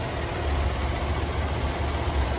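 A Nissan VQ-series engine idles steadily up close, a continuous low rumble with an even, unbroken drone and no voices.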